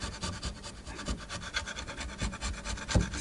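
A sharp chisel lightly shaves and scrapes along the metal edge of a guitar pickup, giving a close, quiet run of short rubbing and rasping strokes with a few sharper scratches, no voices.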